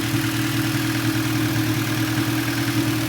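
A 1990 Acura Integra engine idles at about 1100 RPM with a steady, even hum and a low rhythmic throb, close and continuous throughout, with no talking.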